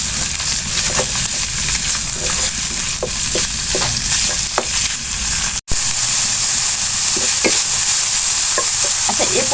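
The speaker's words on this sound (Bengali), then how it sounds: "আমি এর ভিতরে কিমা করা চিকেনটা দিয়ে দিচ্ছি।" Minced chicken frying in a pan for a momo filling, a loud continuous sizzle close up with scattered scraping taps from stirring and a brief dropout midway.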